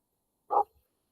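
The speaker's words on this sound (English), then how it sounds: "That's my dogs barking, and seems a package is being delivered." A single short dog bark sounds once, fairly faint and a little distant, in an otherwise quiet indoor setting with no talking.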